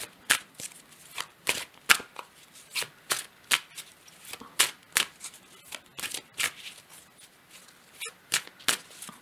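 Oracle cards from a cosmic oracle deck are shuffled by hand, close and fairly quiet. Irregular crisp riffling bursts and soft slaps repeat throughout, with no talking.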